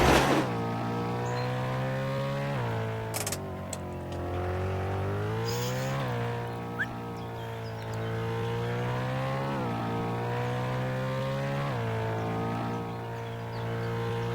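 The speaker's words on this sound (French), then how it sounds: "moi j'ai la Aventismo RS4" Aventismo RS4 car in the video game Emergency Hamburg, its engine revving steadily and loudly throughout, with pitch swells and dips every couple of seconds as it accelerates and shifts, no voices over it.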